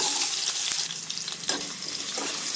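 Potatoes fry in a pan over a medium-high flame for mixed vegetable pulao, sending up a bright, continuous sizzle with scraping stirs, close and fairly loud, and no talking.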